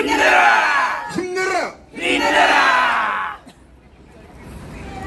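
A crowd chants slogans in unison outside Gwacheon police station at a rally demanding an investigation into alleged election fraud, two loud sustained shouted bursts with rising and falling pitch, separated by a short pause and followed by quieter outdoor murmur.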